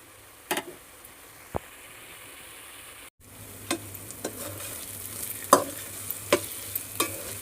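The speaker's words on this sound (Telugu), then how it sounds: "తగినంత కారం వేసుకున్నాక మధ్య మధ్యలో ఇలా కలుపుకుంటూ పైకి వచ్చే వరకు వేయించుకోవాలండి" Eggs frying in oil with chilli powder in a pan, stirred now and then: a low sizzle with scattered scrapes and clicks of the spoon, briefly cut out midway before resuming.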